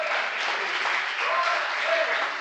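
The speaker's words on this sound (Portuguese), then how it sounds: "Você pode aplaudir o nome dele?" A church congregation claps together during a sermon, a full, continuous roll of applause sounding close and even from start to finish.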